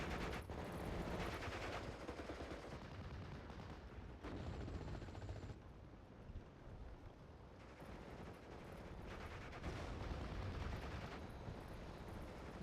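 Rapid gunfire and distant explosions from a World War II Normandy battle in the strategy game Steel Division: Normandy 44, a dense continuous rattle of rifles and machine guns rolling on in bursts with heavy rumble underneath.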